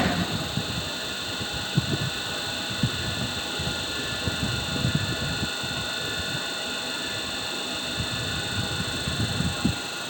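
A three-phase induction motor runs after star-delta starting during a load test, producing a steady electrical hum and drone with irregular low mechanical rumbles and faint clatter throughout.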